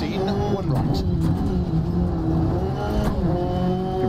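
A rally car engine in DiRT Rally 2.0 revs hard and climbs through the gears, a loud sustained drone rising and dropping with each shift, with a voice talking over it.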